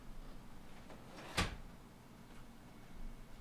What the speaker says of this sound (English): I just had to shut the window at least.